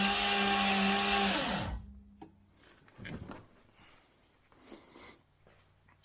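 A freshly installed engine with MSD ignition cranks over under its starter as a loud, steady mechanical whine that winds down sharply after under two seconds, leaving faint clunks and rustling nearby.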